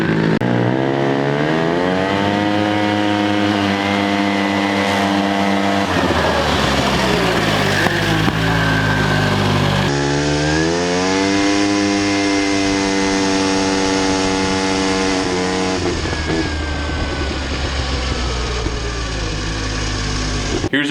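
A rotary-swapped ATV fitted with a turbo accelerates hard down a short stretch in a speed test, its high-pitched engine whine climbing through gears with audible shifts, loud and close throughout.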